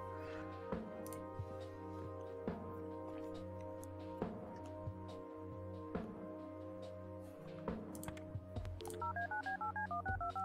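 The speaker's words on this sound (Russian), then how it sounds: "Теперь звоним Клайду." In the video game Kathy Rain, a phone number is dialed with a series of clear touch-tone beeps spaced a second or two apart over a steady background drone, ending in a quick run of ringing tones.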